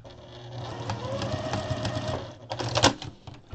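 Sewing machine stitching a chicken-shaped pot holder, a rapid close mechanical whir with a sharp clack near the end.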